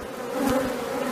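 Honeybees hum steadily at a beehive during a light dusting of powdered sugar against varroa mites, a continuous close buzz filling the short moment with no talking.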